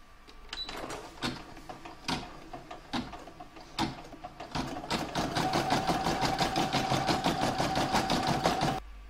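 An embroidery sewing machine quilts a green patchwork fabric block, running in fast needle bursts that settle into a continuous whirring, tapping rhythm, loud and close, alone.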